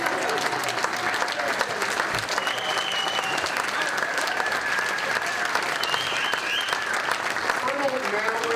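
Sustained audience applause fills a military ball hall, dense steady clapping from a crowd throughout, with some voices and chatter mixed underneath.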